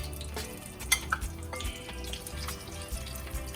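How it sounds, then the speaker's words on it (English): Tofu hitting hot oil gives a low, steady sizzle with a few sharp spits and pops near the start, close and fairly quiet, with no talk. "The oil is ready for the tofu."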